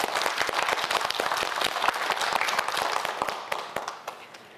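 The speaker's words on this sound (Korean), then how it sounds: "두 친구에게 모두 뜨거운 박수 부탁드립니다." A studio audience at a televised science quiz show gives warm applause for two student contestants; dense, close clapping runs steadily, then thins and fades toward the end.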